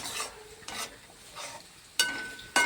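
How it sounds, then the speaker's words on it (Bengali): Onion and garlic frying in a pan and being stirred, with about five short, separate scraping strokes over a soft sizzle, the last two sharper and louder. "তুমি তো 1 ঘন্টা ধরে পেঁয়াজ রসুন কষে যাচ্ছ"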